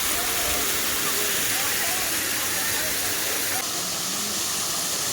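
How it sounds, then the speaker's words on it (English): Snow-melt waterfall on a trail in Carson City, Nevada, pouring as a dense, loud, unbroken roar close by that fills the whole stretch. "I think this waterfall is running all year round too."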